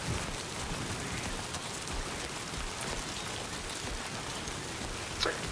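Rain falls steadily in the video game Death Stranding 2 as a character runs across sand, a soft even hiss of drops that stays quiet and unbroken throughout with one small tap near the end.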